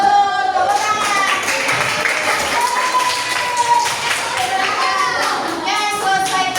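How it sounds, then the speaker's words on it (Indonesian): Children clapping together in an Indonesian fifth-grade classroom, a rhythmic burst of hand claps with children's voices and chatter running through it. "Tepuk tangan"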